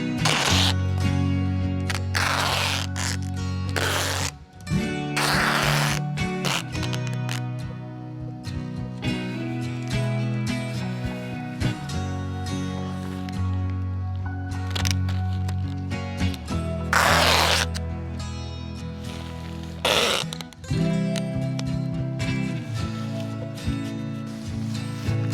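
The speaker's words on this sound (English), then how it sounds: "You just got to get that tape that goes with the house wrap, and then we're gonna tape every seam or every overlap that we created." House wrap tape ripped off the roll and pressed over seams on a cabin wall, several loud, close, raspy tearing bursts between quieter handling noises, with no voices.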